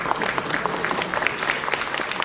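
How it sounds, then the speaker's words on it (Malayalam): Audience applause at a film event, a steady patter of many hands clapping at moderate distance, dense and continuous with no voices over it. "ഇത് കൈയടി വാങ്ങിച്ചിട്ട് പോകും പ്ലീസ്"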